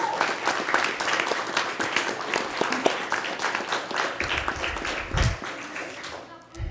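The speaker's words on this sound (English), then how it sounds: "Let's give him a round of applause." Audience applause for a guest, the mayor of a children's Biztown, at a county board of commissioners meeting: steady, dense clapping from a roomful of people lasting several seconds, fairly close and loud, fading near the end.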